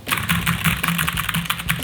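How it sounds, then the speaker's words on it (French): Rapid, continuous key clatter from a SteelSeries Apex Pro TKL gaming keyboard, close and fairly loud, with dense overlapping clicks and no speech. "PC de jeu, j'utilise le Apex Pro TKL, voilà, de chez SteelSeries, que j'adore. Ce bruit."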